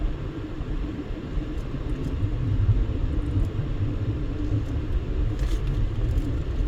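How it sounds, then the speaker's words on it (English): Street traffic in North Las Vegas makes a continuous low rumble of passing vehicles, steady and moderately loud with no voices. "And we get traffic. Lots and lots of traffic."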